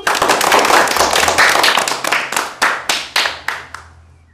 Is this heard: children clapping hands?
yes